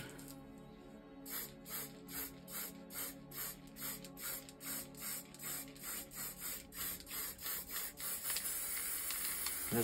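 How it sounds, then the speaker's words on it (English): A spray paint can hisses onto a glass panel for reverse spray paint art, first in a quick run of rhythmic short bursts, then in one sustained close spray. "I'm gonna spray a bit there, if it seeps through."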